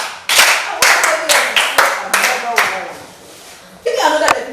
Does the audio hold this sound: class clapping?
yes